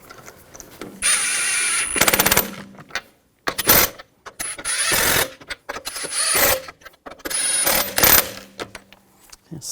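A power tool drives lug bolts onto the wheel of a 2000-2006 BMW X5, sounding as several loud whirring and rattling bursts separated by short pauses, with clicks and handling noises between them.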